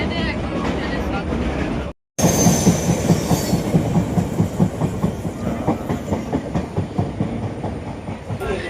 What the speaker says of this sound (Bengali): আর ট্রেন থামেনি, আস্তে আস্তে গড়াচ্ছে।